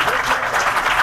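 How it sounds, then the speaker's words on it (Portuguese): A short, steady burst of audience applause at an insurance-sector panel event on innovation and life insurance, many hands clapping evenly for about a second, fairly loud. "Queria uma salva de palmas para a Júlia."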